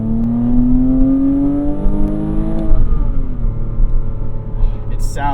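Porsche Cayman S or Nissan 370Z sports car engine revving up with a rising pitch, then a rev-matched drop as it settles into a loud, steady drone close by.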